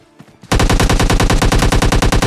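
Rapid automatic gunfire in PUBG Mobile Lite bursts in loud and close after a short quiet start, a steady rattling stream of shots that continues to the end.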